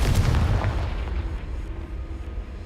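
A Confringo fire spell explodes in the video game Hogwarts Legacy, landing as a single deep, booming blast whose low rumble fades out over a couple of seconds.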